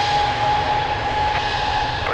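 Airliner taking off from runway 02 at Lisbon Airport, a steady, loud broadband jet engine roar that holds constant throughout, heard alone without voices.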